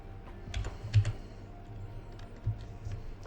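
Close typing on a computer keyboard with mouse clicks while working in Unreal Engine 5, a soft run of irregular key taps and clicks with a couple of louder presses over quiet room noise.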